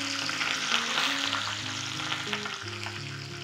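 Three pieces of chicken sauté together in a pan, weighted down by a pot, giving a steady close crackling sizzle of frying fat. It runs continuously with no talk while a soft tonal hum sits underneath.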